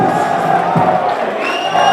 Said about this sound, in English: The crowd are chanting for Mortimer coming in.